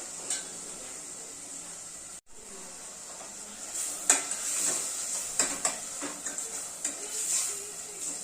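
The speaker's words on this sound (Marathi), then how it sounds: "छान असं परतून घ्यायचंय" Chopped tomatoes and misal ingredients sautéing in a pan, with a constant bright sizzle under several close spoon scrapes and clinks against the pan.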